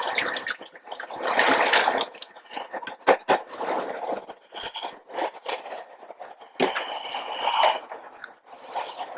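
Water being emptied from a microtome water bath in a lab, irregular splashing, trickling and dripping with crackly bursts, close and fairly loud, no voices.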